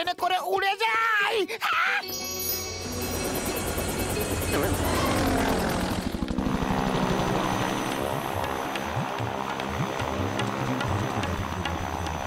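A small plane flies in a Motu Patlu cartoon. After a brief burst of a high animated voice, a loud, steady propeller drone with a whirring buzz runs on and fills the rest of the clip.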